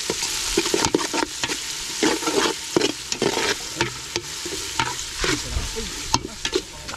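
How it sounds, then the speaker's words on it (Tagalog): Food fries in a pan with garlic and ginger, giving a steady crackling sizzle broken by frequent stirring clatter and scrapes, close and fairly loud throughout, with no talking. "Lakas, gano'n na lakas ng sisil."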